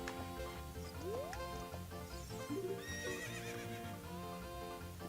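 In The Legend of Zelda: Ocarina of Time, a horse whinnies loudly over steady hoofbeats and game background music, the neigh rising sharply before trotting clip-clops continue.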